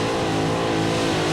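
Pulling tractor powered by two Chevy engines roaring at full throttle during a 1994 European tractor pull at Walibi Flevo, Holland: a loud, dense, continuous engine blare with no break.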